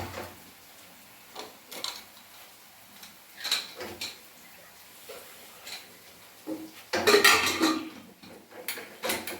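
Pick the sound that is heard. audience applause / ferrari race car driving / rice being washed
rice being washed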